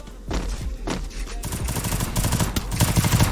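Rapid bursts of gunfire in the Free Fire video game, dense clattering shots building into a sustained loud fusillade, heard alone without talk.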